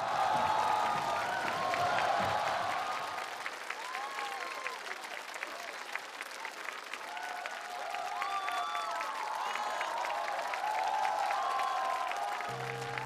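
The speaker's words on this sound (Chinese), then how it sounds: "马上掌声有请" A studio audience at a televised singing competition applauds and cheers warmly to welcome a singer, the clapping loud at first, easing slightly in the middle and then swelling again.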